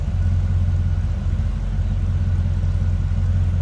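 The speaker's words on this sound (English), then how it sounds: "Nice exhaust note." A 1966 Chevrolet Impala convertible idling at the rear, its exhaust giving a steady, low, even rumble heard up close with no talk.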